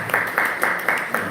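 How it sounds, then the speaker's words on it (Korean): A church congregation claps in even, rhythmic beats to encourage the children, with about five strong claps in quick succession. "우리 다음 세대 아이들 박수로 격려할게요."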